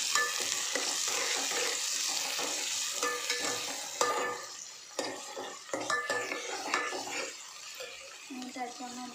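Dill leaves stir-fried in a pan, a continuous bright sizzle under repeated close scraping and clinking stirs of a spatula, loud and steady throughout.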